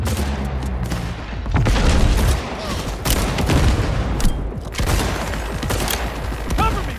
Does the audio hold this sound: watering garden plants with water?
no